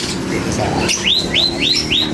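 A pure Jan Arden bloodline gamefowl, highland born, gives four quick rising chirps in close succession over a steady background rumble.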